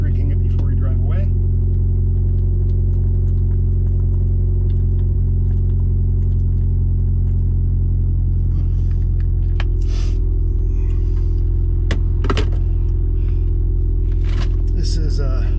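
Steady low engine rumble from an old Subaru car driving, a continuous drone with road noise throughout and a few light knocks and rattles toward the end.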